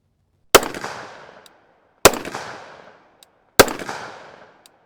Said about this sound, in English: Bare muzzle, and we're going to do 3 shots for an average.